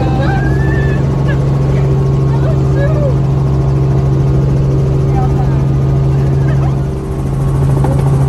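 A helicopter on a ride at Myrtle Beach drones loudly and steadily from close range, with a constant low rotor hum throughout while people talk over it.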